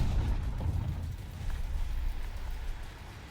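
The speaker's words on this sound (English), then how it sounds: "I think that was a bomb explosion" A bomb detonates in the aerial combat game War Thunder, heard as a deep, rumbling low boom that rolls on and fades slowly over a few seconds, with no voices.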